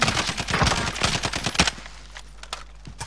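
Rapid machine gun bursts in Call of Duty, loud and dense for the first second and a half, then thinning to a few scattered distant shots.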